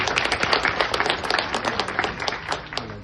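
Wedding reception guests applaud during a best man speech, steady dense clapping from a crowd filling the whole moment, fairly loud and close.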